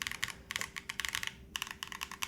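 Bursts of crisp, clacky keystrokes on a Float65 mechanical keyboard, typed in quick runs with brief pauses between them, close and clear with no voices.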